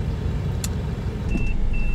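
A car sits stuck in mud on a safari drive in Ol Pejeta, Kenya, its engine droning at a steady, loud level, with a faint whine near the end and no voices.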